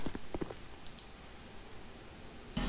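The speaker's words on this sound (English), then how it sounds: "What horse?" Horse hooves clip-clop in the game Dark Souls 2, a short burst of quick, close footfalls at the start, then a low ambient hum and a sudden louder thump at the end.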